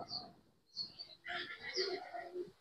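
Racing pigeons at a club loft during summer race training cooing softly, a few faint low coos and throaty murmurs close by, with quiet gaps between calls.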